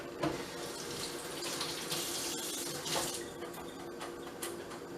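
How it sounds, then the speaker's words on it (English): Tap water runs steadily into a sink as hands are washed in a home kitchen while cooking shrimp chicken noodle soup, a continuous close splashing stream with no voices. "To wash all this stuff off my hand."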